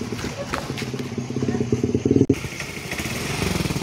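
Motorcycle engine chugging steadily while riding slowly on a rough mountain road on an island, close up, with clattering and thumping from the bumps and a brief loud knock partway through.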